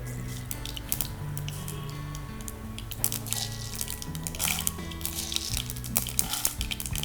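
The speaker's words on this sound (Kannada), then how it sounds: "ಎಣ್ಣೆಗೆ ಸಾಸಿವೆ ಹಾಕಬೇಕು." Mustard seeds sizzling and crackling in a little hot oil while patrode, a South Indian dish, is prepared, a steady close frying hiss with scattered sharp pops throughout and a low hum underneath.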